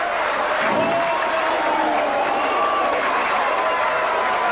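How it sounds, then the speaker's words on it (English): Rugby league crowd at Mount Pleasant, Batley, applauding a try, a dense, sustained roar of clapping and cheering that fills the whole stretch at steady loudness. "Rapturous applause there. The old Mount Pleasant now booming."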